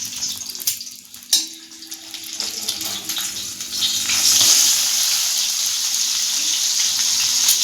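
Egg masala sizzling in a pan, seasoned with black pepper, salt and red chilli powder, being lightly fried on both sides: a steady close hiss and crackle that grows louder and denser partway through, with a brief clatter early on.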